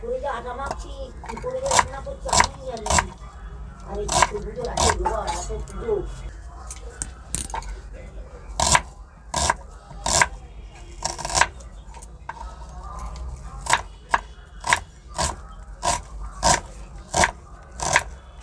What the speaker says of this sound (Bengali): আমি প্রথমে পেঁয়াজটা কেটে নিচ্ছি